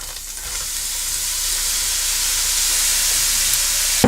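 Steady, loud sizzling of mushrooms frying in hot oil, a continuous bright crackle with no talking.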